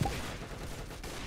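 Gunfire in the online shooter game Arsenal, a dense burst of rapid shots right at the start that fades into a steady low rumble of continued game noise, with no talk over it.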